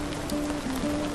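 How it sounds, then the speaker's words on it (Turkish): Rain falls in a short burst of soft patter, close and continuous, with sustained music tones layered over it. "Her şeyin sorumlusu beni uyandıran bu yağmur."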